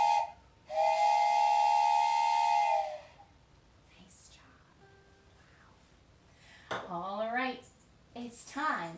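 A loud steam train whistle blows one long sustained tone for about three seconds, followed later by a voice speaking.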